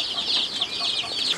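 Hens cluck softly and repeatedly inside a henhouse where small doors in the wall open onto the laying birds, a faint, continuous chatter of fowl with no talk.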